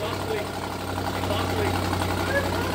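A car engine runs loud in an automotive lab during a community college driveline class, its exhaust donuts missing; a steady, heavy rumbling drone holds throughout with faint voices in the background.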